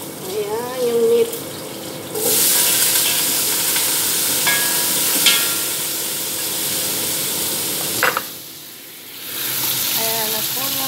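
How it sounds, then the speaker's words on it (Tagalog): Meat sizzles as it is sautéed in a pan for kabuli rice, with a bright frying hiss that swells and fades and some clinks of stirring. A voice speaks briefly in places. "Igigisa ko na yung meat."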